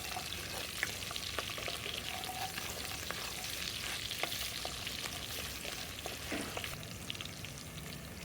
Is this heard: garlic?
yes